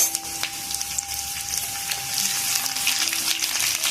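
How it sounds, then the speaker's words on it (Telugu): Sliced onions sizzle and crackle steadily in hot oil for biryani, a dense continuous frying hiss close by with small pops, and no voices. "ఆయిల్ వేడైందండి, ఆనియన్ వేసుకుందాం"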